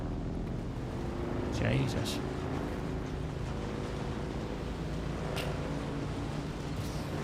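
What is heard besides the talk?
strong wind in video game Dune Awakening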